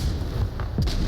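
A flashbang grenade going off in the VR shooter Onward, one sharp, punchy bang near the end, with a low rumble of game ambience before it.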